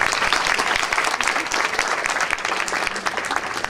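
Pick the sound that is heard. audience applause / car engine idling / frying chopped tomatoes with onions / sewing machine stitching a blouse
audience applause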